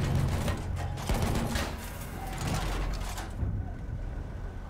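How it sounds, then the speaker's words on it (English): Enemy machine gun fire in the video game Battlefield 1 sounds as a dense, sustained rattle of rapid shots over constant battle noise, steady and loud for several seconds before thinning near the end. "It's an enemy machine gun!"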